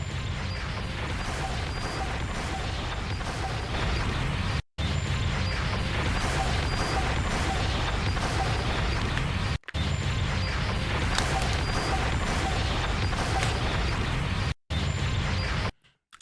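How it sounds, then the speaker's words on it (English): Anime sound effects of mountains several hundred feet tall being destroyed: a dense, loud, continuous roar of crashing and grinding rumble, cut by brief silent gaps into several long sustained bursts. "These are mountains that are several hundred feet tall getting destroyed."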